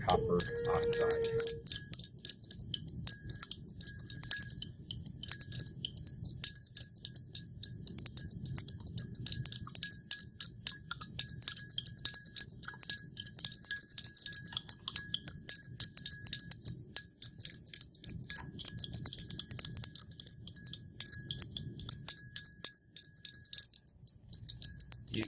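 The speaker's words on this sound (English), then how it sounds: "We'll stir it continually until it boils" A rod stirs copper hydroxide in glassware over heat, producing a continuous stream of faint, rapid glassy clinks and scrapes through a quiet background.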